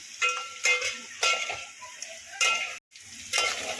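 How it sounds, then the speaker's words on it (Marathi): Green chillies and diced potatoes fry in a pan for sabudana khichdi, with a soft sizzle broken by repeated sharp bursts of scraping and stirring, each a second or so apart. "2 मिनिटं अजून हे फ्राय करून घेऊया"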